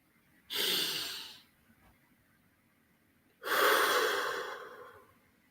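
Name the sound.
deep breathing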